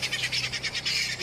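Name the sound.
flock of birds flying up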